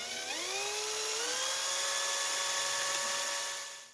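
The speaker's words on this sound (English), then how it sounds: "So we're going to drill that out." A small power drill whines steadily, rising in pitch as it spins up, boring out a putty-packed screw hole on a 1/8 scale Porsche 917K model, close and alone for about four seconds.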